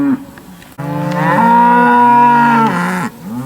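A single long, loud moo from Brangus and Sem-Angus cross cattle at a livestock auction sale, a deep bellow held for about two seconds and then falling away, heard alone with no talk.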